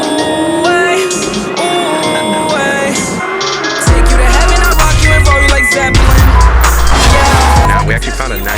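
A Porsche Carrera GT engine rises in pitch, cuts off for a gear change into second, then pulls again at a loud, raw, high revving wail, heard close from inside the car.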